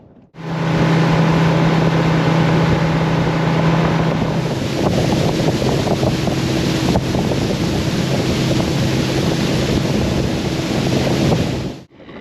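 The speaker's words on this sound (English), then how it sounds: "The wind's picked up just enough to make it irritating to fish those lighter plastics." Wind gusts across the Hunter River during a fishing trip, a loud, steady roar buffeting the microphone, with a droning tone under the first few seconds and no talk.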